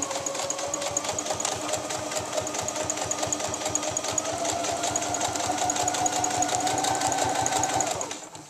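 A sewing machine stitches lining fabric to the front and back bodice of a garment, a steady close whirring run of rapid needle strokes lasting several seconds before stopping.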